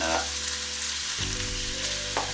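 Onions and garlic soften in a frying pan for a Greek beef stifado, giving a steady close sizzle under soft background music, with a brief scrape of stirring near the end.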